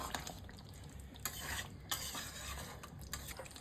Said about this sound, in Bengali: এরপর আমি চিকেন কষাতে থাকবো।